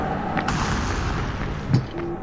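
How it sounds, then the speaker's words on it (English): A frag grenade blows up in Splinter Cell: Chaos Theory during a Spies vs. Mercs match, a single short, muffled boom about three-quarters of the way through, standing out from a steady bed of game noise. "I'm sending a frag through the window."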